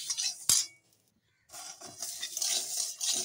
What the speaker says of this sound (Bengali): এর মধ্যে আমি এখন দিয়ে দিব মুগ ডাল। মুগ ডালটা ভালো করে ভেজে নেব